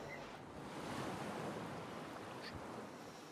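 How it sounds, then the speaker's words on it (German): Ocean waves from the Tropico 6 video game, a steady, even wash of surf with a soft wind-like rush, continuous and moderately quiet without talk. "Schönes Meer, da kriegt man Lust auf Urlaub."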